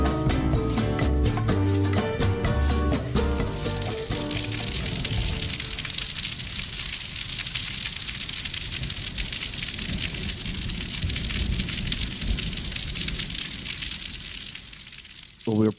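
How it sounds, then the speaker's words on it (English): Heavy rain and thunder at the Vuelta a España 2017 Stage 10 finish at ElPozo Alimentación, Caravaca, a dense steady roar that runs the whole time. Music plays over the first few seconds and fades out. "the noise that dominated today, and that was of rain and thunder"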